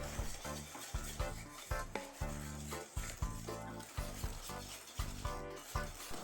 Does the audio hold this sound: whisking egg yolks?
yes